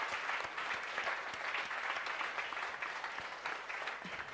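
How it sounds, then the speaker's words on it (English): An audience at a pre-event gathering applauds in a steady, even wash of clapping, heard at a distance and fairly quiet throughout. "I'll have a round of applause"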